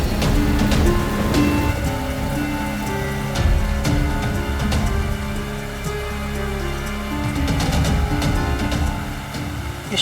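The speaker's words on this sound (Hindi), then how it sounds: "इस शिरडी में अचानक ऐसी बारिश?" Heavy rain pours down suddenly in Shirdi, a loud dense hiss of drops pounding surfaces continuously throughout, close and steady with no voices.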